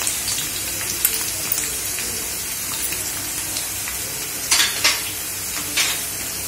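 Onions fry in a pan with crushed garlic added, giving a steady close sizzle with occasional spatula clinks and a few sharper scraping stirs near the end, no speech.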